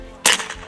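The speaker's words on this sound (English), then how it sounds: "Shoot another card." A single sharp air gun shot fired at a playing card, a short loud crack with a brief tail, standing alone with nothing else around it.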